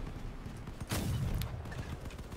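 Gunfire in the vehicle combat game Crossout: a burst of rapid shots and impacts over a constant engine rumble, loudest in the middle and fading out, with no one talking.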